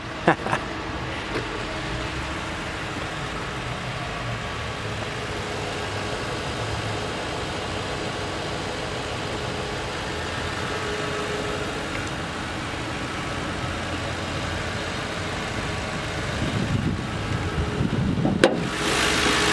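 A 2011 Ford Crown Victoria P7B police interceptor engine running at a steady idle, a moderate, continuous low hum under a broad hiss of wind or background noise, with a brief louder rustle near the end.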